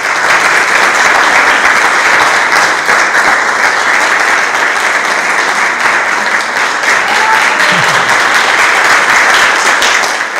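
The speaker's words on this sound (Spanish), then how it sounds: "un fuerte aplauso para el Perú y para José" Audience at a congress gives loud, sustained applause that holds steady from start to finish, a dense wash of many hands clapping with scattered crowd noise.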